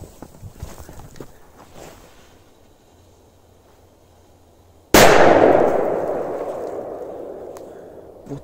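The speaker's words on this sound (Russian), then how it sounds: "Вот это мегаядерный взрыв." A firecracker explodes with a single sharp, loud bang followed by a long fading rumble and crackle, after a stretch of quiet outdoor rustling and faint shuffling.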